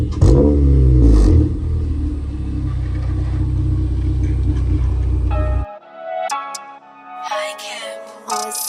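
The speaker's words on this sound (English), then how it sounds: "To see this car rolling." A Honda Civic engine rumbles and revs hard at close range, a loud low growl that surges at the start and holds for several seconds before cutting abruptly to quieter tonal music.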